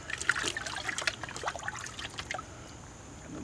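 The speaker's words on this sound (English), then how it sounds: "Bucket of water to rinse them in." Water from a bucket trickles and splashes as garden slug beer traps are rinsed out, a brief, soft, close pouring sound.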